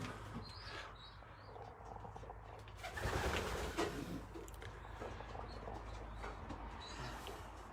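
Racing pigeons coo softly in a race loft, close by, with low murmuring calls, faint rustling and a brief louder flutter of movement midway, all at a quiet level.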